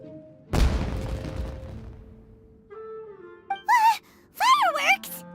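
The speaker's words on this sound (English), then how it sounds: "It sounded like fireworks." A fireworks blast in Genshin Impact opens with a single sudden, loud boom that rumbles and fades over about two seconds. High-pitched character voices follow.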